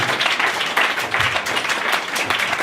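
A church congregation at a Sunday service applauds the Lord with steady, dense clapping that fills the room throughout.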